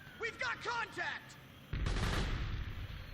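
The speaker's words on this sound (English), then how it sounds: "run to where the gunshots are" Gunfire in the video game Metal Gear Solid 4, a rapid rattling burst of shots after a few words of game dialogue, moderately loud and continuous.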